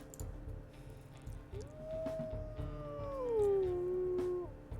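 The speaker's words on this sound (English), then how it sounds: "so many of these howls actually do sound like they belong to the same wolf" A wolf howl in WolfQuest Anniversary Edition, a single long tonal howl that rises, holds and slides downward, then ends abruptly, with fainter overlapping howls and light game background.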